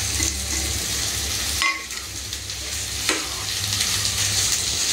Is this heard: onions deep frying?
yes